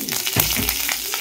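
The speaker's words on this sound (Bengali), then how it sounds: "যে কারি পাতাগুলো একটু ভেজে নিলাম" Mustard seeds and curry leaves frying in a little oil for sambar tempering, a close, busy sizzle with quick popping crackles throughout, no talk.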